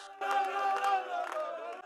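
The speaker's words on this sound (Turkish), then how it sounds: "Maç sonunda taraftarlar, basketbolcular, teknik heyet ve yöneticilere tezahüratlarda bulundular." Basketball fans of LH Fethiye Belediyespor chant together after a victory, a dense, steady roar of many voices that swells and dips for about two seconds.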